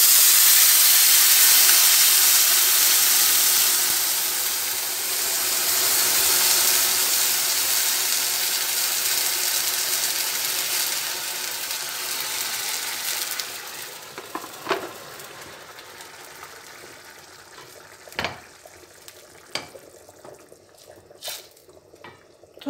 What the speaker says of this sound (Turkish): Tuzunu da attım, suyunu da döktüm.